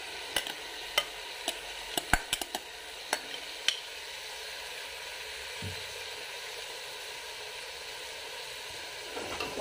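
Soaked lentils stirred in a pot for khichdi: a burst of sharp spoon clicks and knocks for the first few seconds, then a faint, steady low hiss with a couple of quiet taps near the end.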